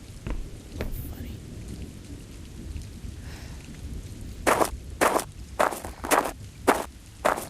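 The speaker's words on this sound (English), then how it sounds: "Seems like the rain never goes away." Steady rain pours under a low rumble of thunder, with a run of sharp, loud crackling bursts near the end.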